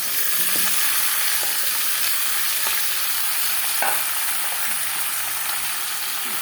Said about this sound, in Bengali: আমি কড়াইতে তেল দিয়েছি। আর আমি মাংসটাকে দিয়ে দিব।